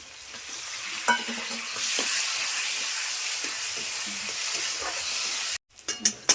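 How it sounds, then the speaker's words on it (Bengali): Vegetables and spices for a jackfruit-fritter curry sauté in a hot pan, giving loud continuous sizzling with scraping stirs. The sizzle cuts off abruptly near the end, followed by a few sharp knocks. "ভালো করে কষাতে হবে, যদি ভালো করে না কষায় তো মশলার একটা গন্ধ আসবে"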